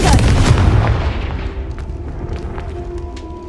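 A Confringo spell explodes in the video game Hogwarts Legacy: a single loud, close boom with a heavy low rumble that decays over a few seconds into a fading tail with faint debris crackles.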